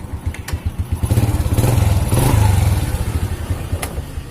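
A 2006 Honda Supra Fit motorcycle engine idling close by with a rapid chugging rhythm, briefly revving up and then settling back to idle.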